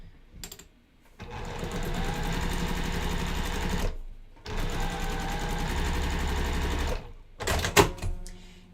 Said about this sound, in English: And then now I'm going to sew this down.